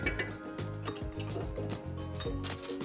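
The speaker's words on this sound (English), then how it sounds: "Let me whisk this in here real quick." Chili honey mustard sauce with shallots being whisked in a bowl, quick rhythmic clinks and scrapes of the whisk against the bowl, close and fairly quiet.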